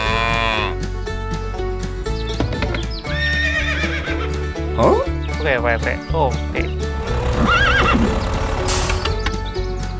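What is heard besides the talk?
horse neighing and hooves clip-clopping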